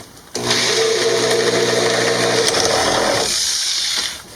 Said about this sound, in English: I got to screw in these screws at the bottom